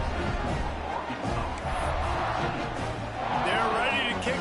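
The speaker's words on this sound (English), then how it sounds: "this crowd is buzzing after that last score" A football stadium crowd buzzes steadily after a touchdown and extra point in an FSU vs Arkansas game, a dense continuous roar with a play-by-play announcer talking over it.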